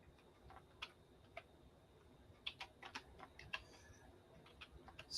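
Sparse, faint keystrokes tapped on a computer keyboard, coming as scattered single clicks with uneven gaps over quiet room tone, with no one speaking.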